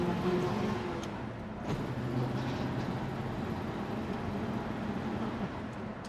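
A 1966 Ford Mustang drives along with a low, steady engine drone and road rumble heard from inside, fairly even throughout with faint background noise.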